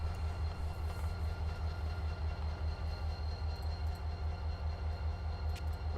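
Freight train rolling by in the Run 8 train simulator game, a steady rumbling roll with faint rhythmic wheel clatter, heard at a distance with no talking.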